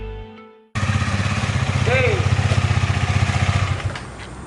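Motorcycle engine revving loudly ahead of a street race, starting abruptly after a brief quiet moment, then a steady pulsing, throbbing rumble that holds close and strong, with a short rising whine partway through.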